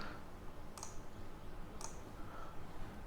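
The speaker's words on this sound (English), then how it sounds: "then click on this 3D cover generator" Two sharp computer mouse clicks about a second apart, faint and isolated against a quiet room hiss.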